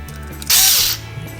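Screws are tightened on a dog clipper blade in one loud, close mechanical whir lasting about half a second, set against a quiet background.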